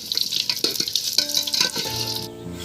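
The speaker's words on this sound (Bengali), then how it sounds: "আলুগুলো ভাজা হয়ে গেছে দেখুন এবার তুলে নিচ্ছি" Potato pieces fry in hot oil for a mutton curry, giving a loud, steady crackling sizzle with bursts of spatter and a faint stir near the end.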